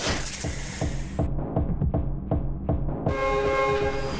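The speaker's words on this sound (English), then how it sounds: "who in their mind starts the level off with the train coming at you?" A train roars toward the listener in the action game Anger Foot, its wheels clacking in a steady rhythm as a loud, sustained horn blares, all close and heavy with no voices.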